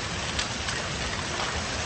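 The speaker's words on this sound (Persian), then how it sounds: "بارون اونقدر شدید بود که باعث جاری شدن سیل و بردن چند تا خودرو شد." Heavy rain pours down steadily during flooding in Pakistan, a dense, even hiss of downpour on surfaces with no break and no voices.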